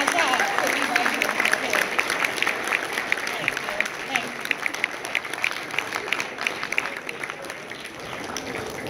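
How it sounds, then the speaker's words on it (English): A standing audience at a guest speaker event gives a sustained round of applause, dense clapping running throughout with scattered cheers and voices mixed in. "Could you give me a round of applause because I spent my time to be right here."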